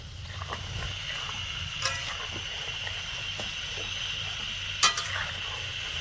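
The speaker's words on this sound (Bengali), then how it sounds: "সবগুলো মিষ্টি আমি তেলে ছেড়ে দিয়েছি এবারে মিডিয়াম থেকে লো আঁচের মাঝামাঝি রেখে একটু ভেজে নেব" Malai sweets frying in oil over medium-low heat, a steady close bubbling sizzle with occasional light clinks of a utensil against the pan.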